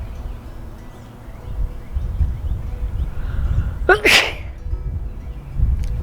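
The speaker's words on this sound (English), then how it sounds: "I'm gonna sneeze." A single sharp sneeze bursts out loudly near the mic, set against outdoor ambience with a low rumble and faint bird sounds.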